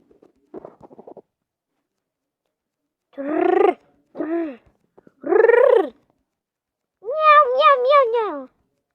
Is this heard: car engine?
no